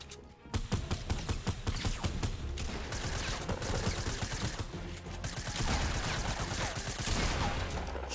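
Dense, continuous gunfire in Fortnite Battle Royale, a loud rapid stream of shots layered over more game sounds for the whole stretch, with only a brief lull near the start.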